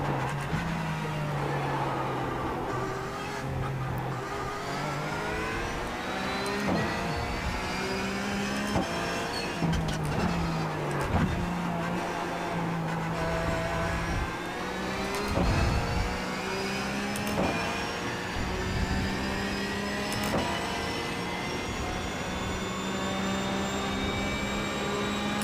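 A race car engine drives a lap in a sim racing game: its steady loud drone climbs and falls through the revs, with repeated gear shifts marked by sudden pitch drops across the whole stretch, and no talking.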